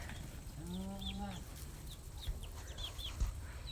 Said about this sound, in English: I'm going to turn the camera around again and just show you the chicks.